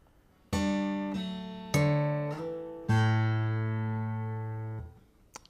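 Acoustic guitar in DADGAD tuning played with two-hand tapping, a few slow ringing tapped notes with a sliding bass line beneath, each struck note sustaining and fading, played alone and close.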